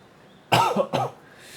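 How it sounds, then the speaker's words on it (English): Two quick, harsh coughs close to the microphone, one right after the other, in a quiet room. "my coughing's not getting better, is it?"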